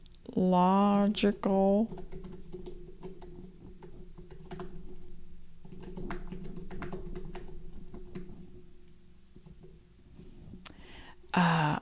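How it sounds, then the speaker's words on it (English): Rapid clicking of a computer keyboard being typed on close by, continuing in bursts, with a person speaking briefly at the start and end. "I'm typing it wrong"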